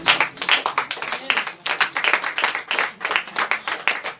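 A church congregation claps loudly in praise of the Lord, a dense burst of many hands beating in a steady, rhythmic pulse with no talking.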